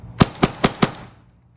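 A Milsig M17 less-lethal launcher fires four sharp, evenly spaced shots in quick succession, loud and close, and each crack fades fast into silence.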